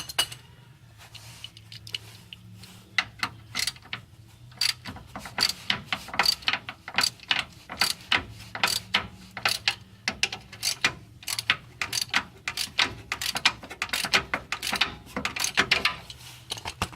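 A ratchet wrench works the fuel filter clamp bolts on a Ford Ranger 4.0 V6, giving rapid bursts of clicking pawl ticks in quick repeated strokes, close up and fairly loud, with faint background hum and no talking.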